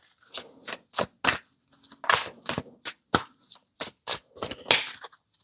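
Oracle cards are shuffled and drawn by hand, a quick series of crisp riffling and slapping bursts separated by brief pauses, close and fairly quiet.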